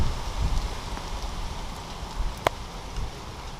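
Steady rain falls in a strong thunderstorm in Paris, a dense even hiss with soft low rumbling beneath and one sharp brief crack partway through, no talking.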